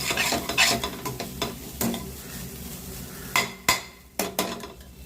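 Raw banana puttu is stirred and sautéed in a pan, with a soft sizzle under repeated scraping strokes and sharp clinks of a metal spoon against the pan.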